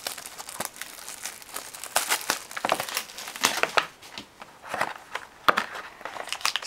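A foil pack of 2013 Inception football cards is torn open by hand, with close crinkling and crumpling bursts in an irregular rhythm and brief quiet pauses in between.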